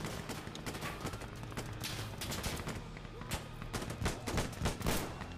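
Gunfire in the video game Insurgency Sandstorm, rapid bursts and single shots crackling continuously with sharp, loud reports layered over distant battlefield fire, with no voices over it.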